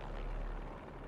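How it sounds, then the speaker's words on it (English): Helicopter rotor blades from the Spider-Man 2 video game on PS5, a low, steady pulsing thrum heard alone and fairly quiet for a brief moment. "Something like a helicopter's blades."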